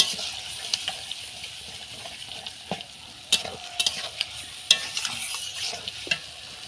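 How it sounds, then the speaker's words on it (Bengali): A cumin spice paste being stirred and fried with a splash of water in a pan, giving a soft continuous sizzle punctuated by sharp spatula scrapes and taps, close up with no talking. "জিরে বাটা তো দেখো আমি কিছুটা জল দিয়ে মশলাটাকে ভালো করে কষিয়ে নিচ্ছি"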